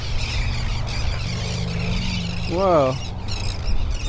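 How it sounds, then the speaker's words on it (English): Birds call outdoors, a rising squealing chirp standing out over steady wind and background rumble while a person exclaims briefly. "I don't know if you can hear all those birds."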